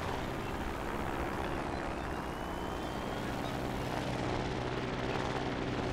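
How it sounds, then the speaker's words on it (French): A helicopter in the building game Trailmakers, a continuous droning rotor and engine hum at moderate level with a faint rising whine, steady throughout with no talk. "quand l'hélicoptère fait n'importe quoi, qu'est-ce qu'on fait?"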